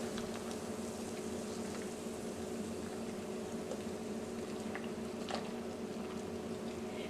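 Steady, quiet bubbling hiss of salted water boiling in a saucepan, continuous and even throughout with no voices.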